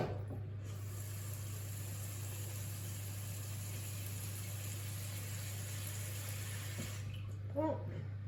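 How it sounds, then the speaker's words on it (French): Hot water pours steadily into a large baking dish, a continuous rushing fill over a steady low hum, ending with a brief clink near the close. "Je vais le remplir d'eau chaude déjà."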